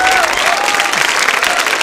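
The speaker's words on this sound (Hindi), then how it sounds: "जोरदार तालियां बजाइए" A college audience at a Holi quiz show applauds a prize-winning participant with a dense, continuous wash of clapping, steady and fairly loud throughout, while a voice speaks over it.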